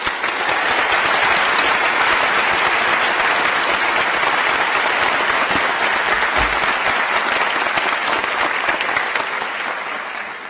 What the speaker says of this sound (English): Now please join me in applauding the success of our PhD graduates.